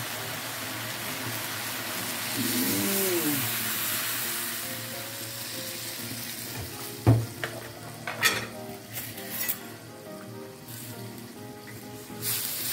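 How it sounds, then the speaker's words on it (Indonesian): Vegetables simmer with a soft sizzle and bubble in a pot as sweet soy sauce and coconut milk go in, followed by a utensil stirring and scraping against the pan in irregular knocks, close up and without speech. "Sambil kita aduk-aduk ya, kita ratakan kecapnya."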